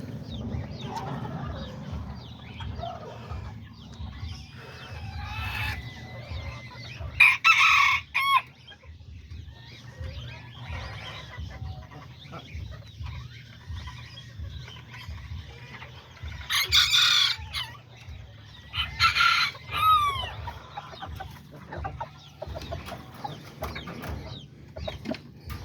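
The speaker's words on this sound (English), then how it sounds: "this is the little chickens, the little tiny short little legged white little chickens I started with right there" Small serama bantam chickens in cages cluck in low repeated bursts while several crows ring out clearly at intervals, close and fairly loud.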